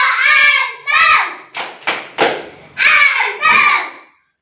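In a primary school classroom, children chant a rhythmic clapping call in unison, their loud voices landing in short bursts with hand claps punctuating the pattern before it stops.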